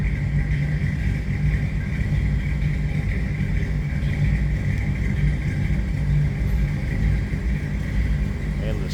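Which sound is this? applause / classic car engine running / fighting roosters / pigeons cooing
classic car engine running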